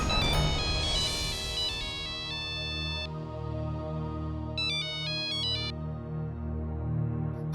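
A phone rings with a bright electronic melodic ringtone, repeating tonal phrases over a low hum of background music, loud and close with no talking.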